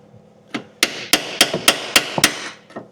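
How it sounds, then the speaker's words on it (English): Small chisel struck with a hammer to tap rivet or bolt heads off during car suspension work, about eight sharp metallic knocks in a quick, slightly irregular rhythm, close and loud with short ringing decays. "Get a little chisel now."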